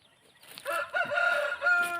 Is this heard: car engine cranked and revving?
no